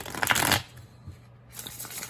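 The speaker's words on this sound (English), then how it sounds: "All right, one more shuffle." A tarot deck is shuffled close up, a crisp riffling burst of cards followed by a quieter pause and soft handling sounds, with no talking.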